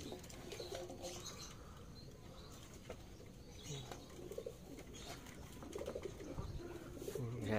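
Pigeons kept in a large loft coo softly in low, repeated murmurs, with brief wing flaps and a few chirps, moderately quiet and close, without speech.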